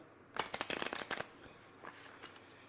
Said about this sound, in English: So I'm going to go ahead and shuffle.